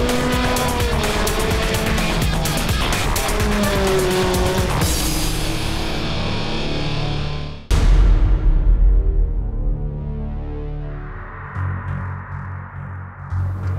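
An all-terrain rally car in the Raid de Himalaya drives past, engine roaring and shifting with tire noise, then a loud close burst as it passes and recedes into a fading rumble.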